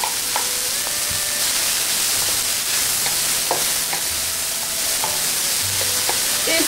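Green pepper and carrots being stir-fried in a pan for a vegetarian steamed dumpling filling, a continuous loud close sizzle with scraping stir strokes and small clinks, no voices.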